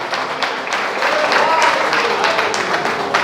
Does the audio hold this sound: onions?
no